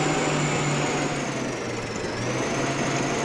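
A small 95-horsepower tractor engine in Farming Simulator 15 hums steadily while pulling a trailer loaded with silage, a continuous mechanical drone with a faint whine and slight shifts in pitch, loud and constant throughout.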